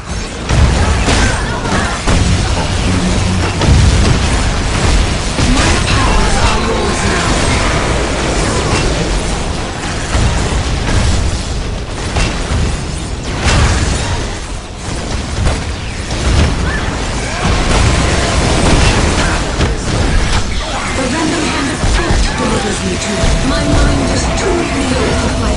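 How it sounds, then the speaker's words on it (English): Orc power generators explode during a battle in the strategy game Dawn of War: Winter Assault, with dense, continuous booms, bursts and rumbling combat noise that stay loud and heavy for the whole stretch, with faint voices mixed in. "if we destroy those large orc power generators, the explosion will draw their attention"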